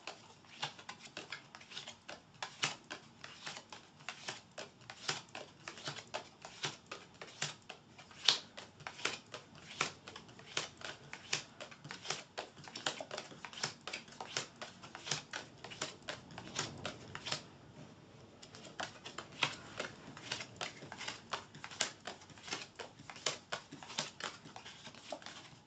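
Tarot cards being cut and shuffled by hand: a dense run of quick crisp card flicks and riffles, steady and close, with a brief pause near the end before the shuffling resumes.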